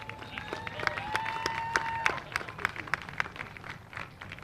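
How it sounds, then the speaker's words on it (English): A crowd at the I-37 Speedway dirt truck race claps for a driver climbing out in his helmet, scattered sharp claps heard from a distance while an announcer speaks over the PA. "Give him a round of applause."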